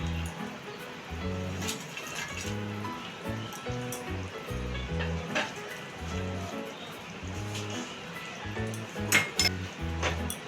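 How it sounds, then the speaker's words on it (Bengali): Fried pomfret pieces go into boiling gravy in a pan, heard as near bubbling and sizzling with repeated soft clinks and knocks of utensils, with no talk. "এখন আমি মাছগুলো গ্রেভির মধ্যে দিয়ে দিচ্ছি"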